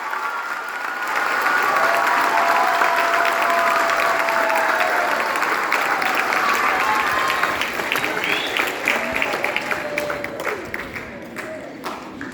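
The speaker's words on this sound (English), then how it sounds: "Give those kids a round of applause." Audience applause for school band students after an intermediate school fall concert, sustained clapping from a crowd with a few cheers and voices mixed in, tapering off toward the end.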